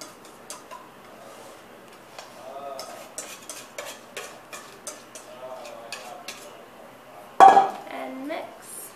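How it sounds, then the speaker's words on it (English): Dry ingredients being mixed in a big bowl, a utensil scraping and clicking against the bowl in irregular close strokes, with one louder knock near the end and a voice speaking briefly. "go ahead and mix all of your dry ingredients until they are fully blended"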